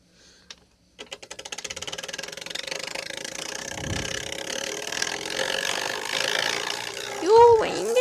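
Bicycle rigged to imitate a KTM motorbike, a rapid mechanical rattling that starts abruptly and runs continuously like a buzzing engine, with a brief whoosh and a voice near the end.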